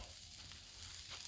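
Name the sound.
patties sizzling on a griddle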